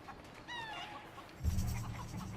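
Chickens in the open-world shooter Ghost Recon Wildlands give a short, faint run of rising clucks, followed by a low rumble of game ambience.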